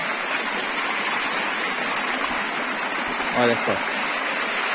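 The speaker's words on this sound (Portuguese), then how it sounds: "A água vem de cascata, ó. E aqui tem uma queda muito boa." Water cascades down a small waterfall into a pool, making a steady, close, full rushing roar while a voice briefly speaks over it.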